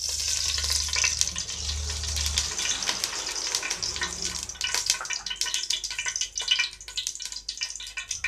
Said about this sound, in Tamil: இப்போ நான் ஆயில் ஊற்றுறேன்